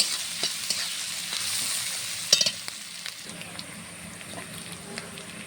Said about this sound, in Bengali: সুন্দরভাবে নাড়াচাড়া করে লাল করে নেব।